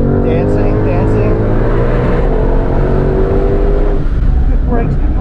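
A 2020 Ford Mustang Shelby GT500 driven hard on a track, its engine note loud and sustained with rising and falling pitch as it accelerates and shifts, with a voice talking over it.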